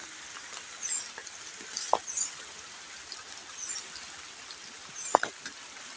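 A baby bird chick cries out in monsoon rain in the Konkan countryside: two brief, faint squeaky peeps, well apart, over a steady patter of rain.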